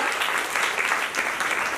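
Audience clapping at a student council event, a dense steady patter of many hands close by, held at an even level for the whole stretch with no voices over it.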